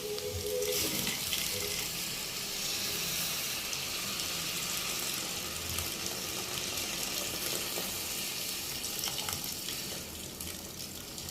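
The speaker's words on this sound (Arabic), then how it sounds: "عند الخطوه دي هنزل عليها بميه مغليه" Boiling water poured over meat cooked with tomato sauce, garlic and spices for a Turkish-style meat and peas casserole, a continuous loud hissing pour and sizzle lasting the whole stretch.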